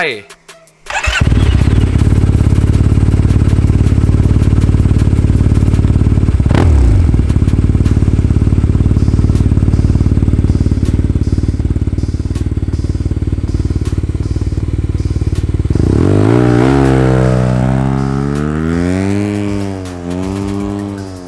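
A Yamaha TMAX motorcycle engine fires up and idles loudly and close, then revs up and down in rising and falling sweeps before easing off.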